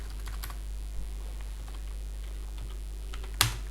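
A computer keyboard is used to type a search into the Chrome browser: sparse, light key clicks over a steady low hum, with one sharper, louder keystroke near the end.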